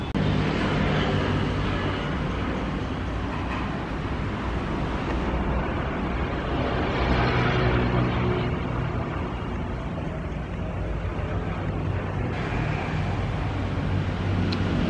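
A loud, continuous rumbling roar of the Argo Wilis passenger train rushing through Klaten station without stopping, steady and broadband for the whole stretch, with no talking.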